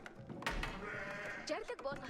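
Sheep bleat in a real-time strategy video game as villagers gather food from them, a few short wavering bleats under a commentator's talk.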